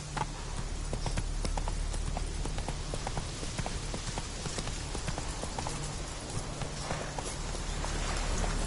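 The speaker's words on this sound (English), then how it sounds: "Run, Roach." Roach, a horse in The Witcher 3: Wild Hunt, gallops with a steady, rapid clip-clop of hooves that runs through the whole stretch over a constant low rumble of game ambience, with no voices.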